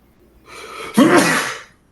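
One loud, close human sneeze, a short intake of breath followed by a sharp burst, during a Magic: The Gathering tabletop game.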